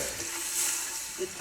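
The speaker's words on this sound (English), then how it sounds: "Now we'll go with our chicken broth. Okay. This is 32 ounces. So we'll dump all of that" Thirty-two ounces of chicken broth pour into a cooking pot for country collard greens, a faint, brief, steady splashing hiss.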